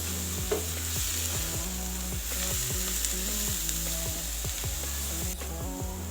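Onions frying gently in a pan for pizza sauce, a soft, steady sizzle with faint tonal hum and light repeated stirring scrapes, heard alone at low level.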